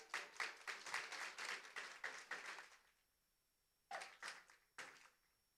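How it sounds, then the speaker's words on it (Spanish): Applause from an audience at a semi-final singing contest as a pair of performers steps onto the stage, coming in bursts of clapping for under three seconds, then a pause and a few more short, scattered rounds. "Fuerte ese aplauso."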